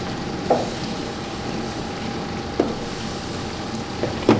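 Chicken pieces and wings sizzling on the bottom rack of a smoker, a steady low crackling hiss with a few sharp pops and clanks standing out, fairly close and with no talk over it.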